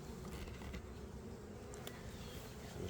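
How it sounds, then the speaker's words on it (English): A calm, quiet bee colony hums faintly and steadily inside an open hive during a frame inspection, a soft continuous buzz with no talking. "There's a lot of bees in here."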